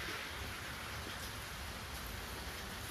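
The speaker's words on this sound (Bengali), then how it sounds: "এখনো বৃষ্টি আছে, 10:30 প্রায় বেজে গেছে, বৃষ্টি আছে।" Rain keeps falling in the morning around 10:30, a late-season shower at the end of the monsoon, heard as a steady, even hiss of drops with no pauses, soft and fairly distant.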